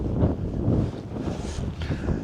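Strong wind gusts buffet a hilltop wild campsite on Kinder Scout, a loud, rumbling roar swelling and easing in waves close to the microphone, with no talking.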